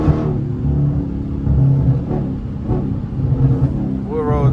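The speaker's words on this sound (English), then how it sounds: "POV Drive. 392 Challenger." A Dodge Challenger Scat Pack with the 392 engine, running on bald tires, drives along with a steady low engine drone and rumble heard from inside the cabin, swelling slightly as it pulls.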